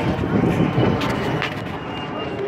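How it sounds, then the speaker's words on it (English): A fixed-wing airplane passes overhead outdoors with a steady, broad engine roar that stays loud throughout, slightly fading toward the end. "That's an airplane right there."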